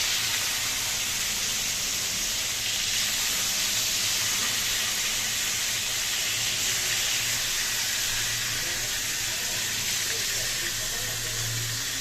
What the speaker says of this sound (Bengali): দেখো চিকেনটা ভাজছি